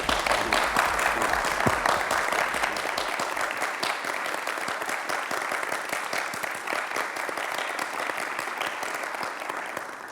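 A studio audience at a televised discussion show applauds to welcome guests, dense steady clapping that carries on at an even level, then thins slightly toward the end.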